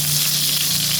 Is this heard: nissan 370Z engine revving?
no